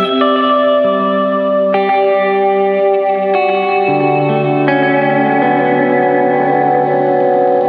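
Guitar notes through an ambient delay pedal with high regeneration, smeared by a long, repeating delay that builds into a dense ambient wash, with swelling echoes and chorus shimmer, loud and unbroken.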